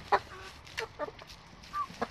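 Chickens cluck inside a coop, with a few short, scattered clucks and squawks at moderate distance over a quiet background. No one speaks.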